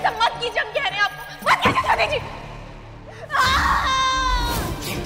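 A woman screams and wails loudly during a heated struggle in a Hindi television drama, with a second long cry rising near the end, mixed with frantic overlapping voices of other people talking.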